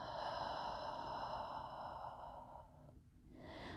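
A deep, drawn-out exhale during a hamstring stretch, a steady breathy rush lasting about two and a half seconds before fading, then a brief pause and another soft intake of breath, close and alone.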